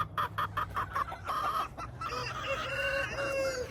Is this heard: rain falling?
no